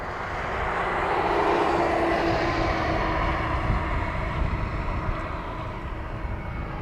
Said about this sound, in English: You won't hear me, but you'll definitely hear the plane.